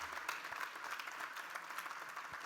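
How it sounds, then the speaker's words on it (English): Faint, steady applause from a crowd at a Detroit Lions draft event, a dense patter of clapping that stays at an even level throughout. "how about a round of applause for these guys here"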